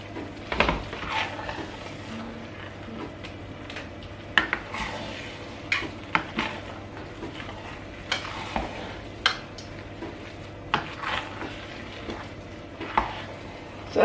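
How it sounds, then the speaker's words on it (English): Jollof rice is stirred in a pot over low heat, irregular scraping and clinking strokes of a spoon over a faint constant sizzle, with distinct knocks every second or so. "I'm just going to give it a stir."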